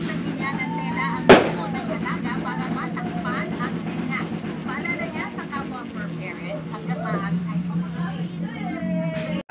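A single sharp firecracker bang at a New Year's celebration cuts through steady crowd chatter and voices, with a busy, noisy background throughout.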